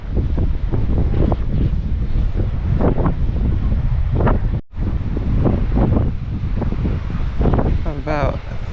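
Gusty wind buffets the microphone on a coastal walk out to Trevose Head, loud and continuous with rumbling surges and a brief dropout, while a person talks underneath.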